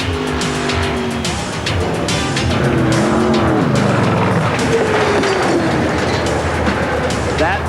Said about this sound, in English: Motor parts rattling inside the engine and bouncing off of the guardrail.